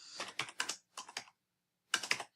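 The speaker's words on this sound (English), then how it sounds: "I'm just typing in the same information I did before." Computer keyboard keys clatter in three quick, close bursts of typing, separated by short silences, quiet and clear with no talking.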